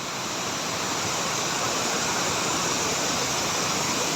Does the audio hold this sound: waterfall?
yes